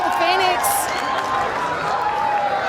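Stadium crowd at an A-League football match involving the Phoenix, a continuous roar of cheering and noise from the stands, with a commentator talking over it.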